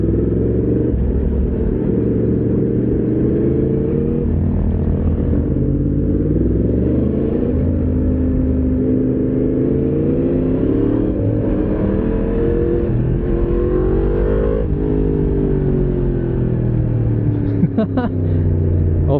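Yamaha MT-10SP crossplane inline-four motorcycle engine droning steadily while riding, a loud continuous rumble with rising and falling rev tones and wind throughout, close to the rider.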